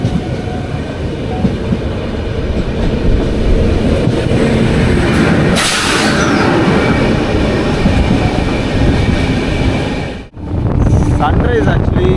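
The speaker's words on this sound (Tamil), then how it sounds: "அந்த வண்டி தான் சிஎஸ்எம்டி மும்பையிலேருந்து வர நாகர்கோவில் எக்ஸ்பிரஸ்" Nagercoil Express from CSMT Mumbai passing close by, a loud continuous roar of carriages and wind buffeting over the rails that cuts off abruptly near the end.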